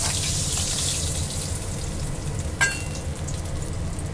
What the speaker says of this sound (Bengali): মাছের লেজটা আমি খুব ভালো করে দুটি ভেজে নিলাম।